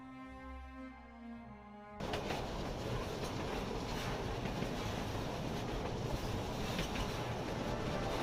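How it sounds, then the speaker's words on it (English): Puffing Billy, a century-old steam train, running on rails in Victoria's hills, with a steady, loud rolling rumble and rail clatter filling the scene after a brief quieter lead-in. "The steam locomotives that power the train are the same ones that were used over 100 years ago."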